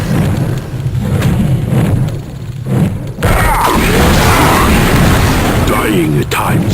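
Statue turret in the Shadow Warrior video game firing nonstop, a dense run of booming, thudding blasts that grows louder and more continuous partway through, with game noise underneath.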